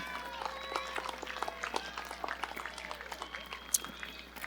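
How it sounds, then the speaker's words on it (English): A crowd applauds at a 2023 military institute high school graduation ceremony, steady dense clapping at moderate distance, with scattered cheers and whoops rising over it. "Let's give her another round of applause."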